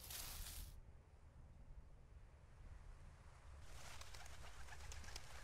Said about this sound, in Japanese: 鳥だ。